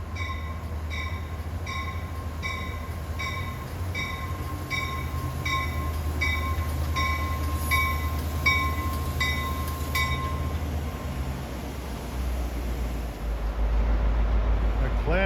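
NJ Transit commuter train with General Motors diesel locomotive power at the rear rolling past, a steady close rumble under a repeating high ringing tone that stops partway, the roar swelling louder at the end.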